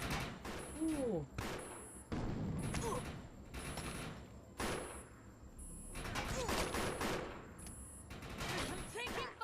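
Rapid bursts of gunfire and explosions in the video game Defiance, dense repeated shots with booming impacts throughout, mixed with game sound effects and voices talking over the action.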